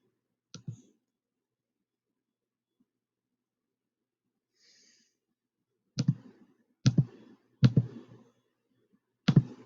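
Sharp computer mouse clicks on an online classroom tool: one early click, then four distinct clicks in a spaced, uneven sequence near the end, close and fairly loud against near silence.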